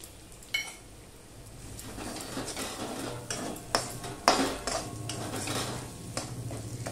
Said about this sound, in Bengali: চিনি দিয়ে একটু নেড়ে চেড়ে নিলাম